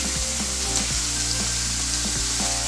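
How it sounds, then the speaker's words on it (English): Sirloin steaks sizzling in a frying pan, a loud steady hiss and crackle throughout, with a repeating tonal hum underneath. "the steaks have been on the pan for about 2 minutes"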